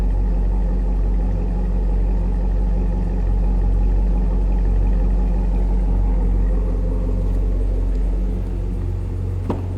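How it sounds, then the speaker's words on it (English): Deep, steady idle from the exhaust of a 2011 Chevrolet Camaro 2SS, a loud low burble holding even for about ten seconds with no talking. "Deep exhaust note, I guess,"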